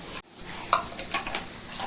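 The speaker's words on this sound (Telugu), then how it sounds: "అన్నీ కలిపి ఇట్లా ఫ్రై చేసుకోవాలి బాగా" Onions, chillies and curry leaves fry in hot oil for a Rayalaseema-style mutton curry, a soft sizzle with brief stirring scrapes and a light clink of a utensil against the pan, fairly quiet and close.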